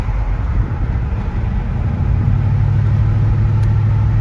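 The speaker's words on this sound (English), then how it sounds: "Love the sound of that 390." 1968 Ford with a 390 V8 and loud aftermarket mufflers, driving with the windows down: a deep, loud, steady engine rumble with a low burbling exhaust note throughout, no speech.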